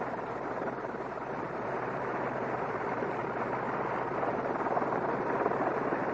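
A World War I airplane's OX5 V8 engine idles down, heard as a steady, hissing, broadband drone that swells slightly toward the end.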